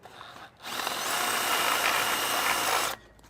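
Power drill with a diamond carbide tip bit boring into metal of a boat anchor, one close, loud whining burst of about two and a half seconds that starts abruptly and cuts off.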